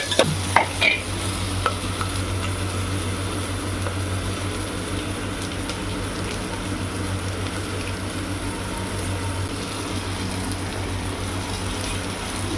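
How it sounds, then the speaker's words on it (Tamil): Ingredients sizzle in a hot pan while a spoon stirs and scrapes through them, with a few sharp knocks at the start and a steady frying hiss underneath. "ஒரு வதக்கு வதக்கி வைக்கலாம்"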